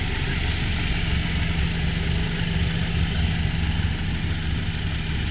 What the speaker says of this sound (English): this thing runs really well